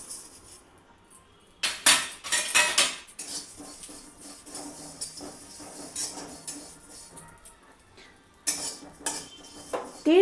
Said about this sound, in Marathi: त्यामध्ये मी आता हे तीळ भाजायला घेते